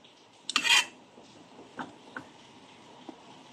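Squid dropped into a cooking pan and spread around with a utensil: a brief sizzling clatter, then a few light scrapes and clinks of metal against the pan, close but quiet.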